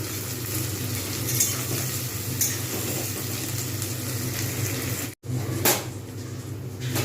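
Onions for birista, the crispy fried onions for Hyderabadi chicken dum biryani, sizzle and crackle steadily in hot oil over high heat, close and fairly loud, with a brief dropout and a few faint clinks.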